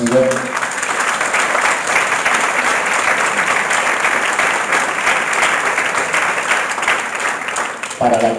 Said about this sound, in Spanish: Yo pido un fuerte aplauso